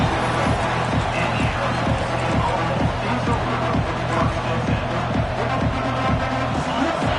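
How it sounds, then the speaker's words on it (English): A dense, roaring college football stadium crowd with rhythmic thumping beats underneath, loud and sustained throughout. "It's early, but this crowd is fired up. Listen to this noise here."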